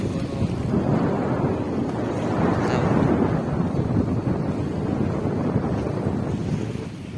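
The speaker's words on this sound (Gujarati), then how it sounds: "હવામાન આજનું ખરાબ થઈ ગયેલું છે પવન વધી ગયેલો છે" Strong wind blows across a boat anchored at sea in bad weather, a continuous heavy roar and rumble with gusting surges and buffeting on the microphone, steady throughout and without voices.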